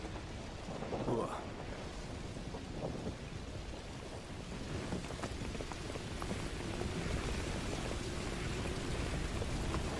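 Steady rain falling in Call of Duty Modern Warfare 2 Remastered, a dense continuous hiss with a low rumbling bed, holding evenly throughout.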